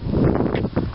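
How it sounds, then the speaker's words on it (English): Gusty wind blows across an open roadside, a steady broadband rush with fluctuating buffeting against the microphone throughout the brief moment. "It's pretty windy."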